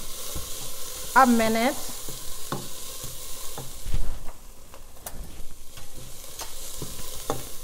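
Thyme cooking in oil in a pot for homemade chicken noodle soup, with a steady soft sizzle and occasional stirring clinks throughout, a brief voice near the start.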